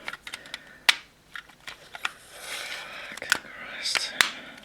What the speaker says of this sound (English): If you can hear all that clicking and clacking, it's just this whole thing trying to hold together.